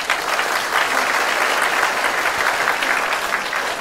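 An audience at a public servants' award ceremony in Taiwan applauds an honoree, with dense, even clapping that stays loud and unbroken throughout.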